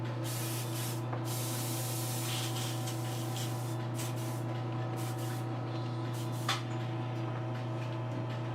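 Continuous spraying hiss of an aerosol protective coating over a custom paint job, with a few short breaks and faint handling clicks over a low steady hum.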